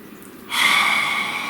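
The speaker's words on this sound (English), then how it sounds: "Please take a nice deep breath." A single deep inhale, loud and close, rushing in after a short quiet moment and holding steady as a breathy hiss with no talking over it.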